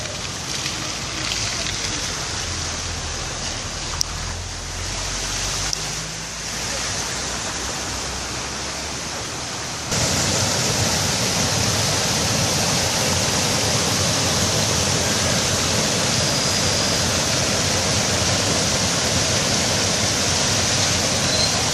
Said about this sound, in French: il y a l'eau courante